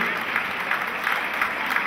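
Strong applause after a dance and group performance at an exhibition, a dense, even wash of clapping from a large audience, sustained and fairly close.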